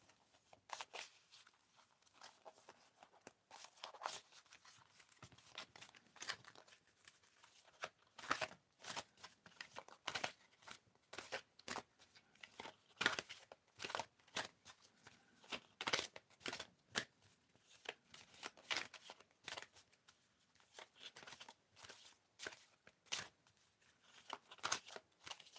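Oracle cards are shuffled over and over, making quiet, uneven bursts of papery riffling and slapping that carry on without a break.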